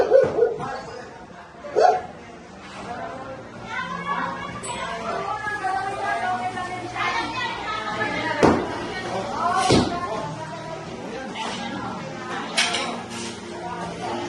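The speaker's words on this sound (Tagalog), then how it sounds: "di pa tayo makagalaw dito kasi may mga aso po dito eh" Dogs bark intermittently around a church setting, a few sharp barks standing out among clattering and thumps, with people talking throughout.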